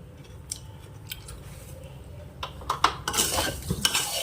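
Dry, crisp scraping and rattling of little millet chivda being stirred in a pan, with scattered clinks early and denser crunchy stirring toward the end.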